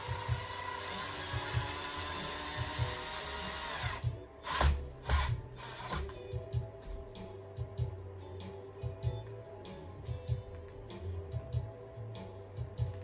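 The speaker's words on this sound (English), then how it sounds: "Put these in a little ways with the drill." A power drill runs steadily for a few seconds, then stops; clicks, clunks and short bursts of ratcheting follow as it drives in screws, fairly quiet and close.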